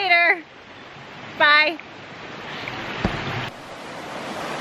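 Rushing water at a stream crossing on a hiking trail, a steady broadband wash rising in the second half after two short bursts of talk at the start.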